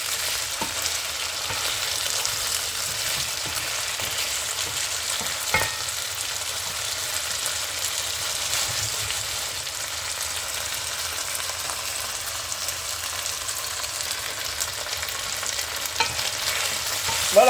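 Ground meat with cherry tomatoes fries in a pan with a low, steady sizzle. Occasional utensil scrapes and taps against the pan come as it is stirred, and no one speaks.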